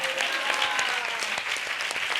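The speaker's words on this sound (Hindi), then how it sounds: "दुल्हन है तो ताली बजाओ" Congregation clapping steadily at a church prayer service, a dense, continuous spread of many hands with no talk over it.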